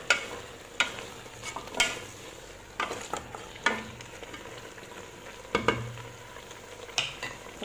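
Turnips and chicken being cooked in a pot for an Algerian rechta, with intermittent stirring scrapes and clinks against the pot over a low background of cooking noise, close by and without talk.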